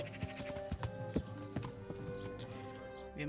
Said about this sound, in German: Auf dem Pferd.